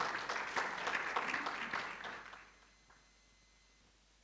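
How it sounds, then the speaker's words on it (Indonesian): A church congregation claps during a Sunday service, loud, dense applause for about two seconds that quickly fades to near silence. "Berikan tepuk tangan."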